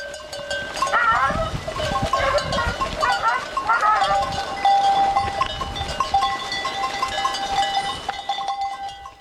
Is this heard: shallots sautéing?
no